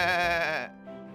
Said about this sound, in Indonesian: Ternyata ada seekor domba yang tanduknya tersangkut di semak belukar